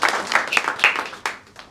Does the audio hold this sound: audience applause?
yes